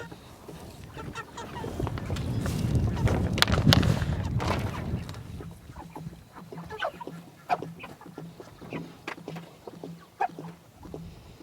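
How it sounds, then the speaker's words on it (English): Chickens cluck and squawk near the coop, with ducks also present. Loud mixed rustling and calls come first, then scattered clucks and a steady low hum follow. "the chickens and ducks have been waiting patiently for us to let them out"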